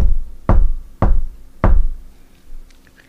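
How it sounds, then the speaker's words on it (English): Three heavy, loud knocks strike a door in slow, slightly uneven succession, each thud ringing out briefly before fading, with near silence in between. "But Peter continued knocking."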